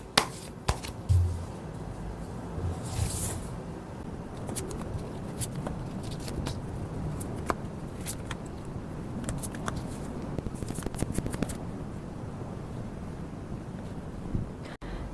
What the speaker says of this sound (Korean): 추가 카드로 한번 뽑아보도록 할게요